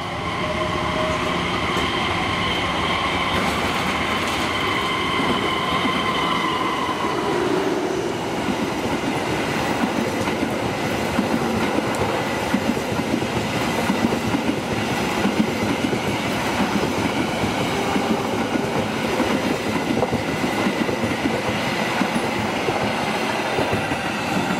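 An Argo Muria passenger train of premium coaches passes close by on a curved stretch of track, continuous loud rumbling with clickety-clack wheel beats and a faint squeal, no talking.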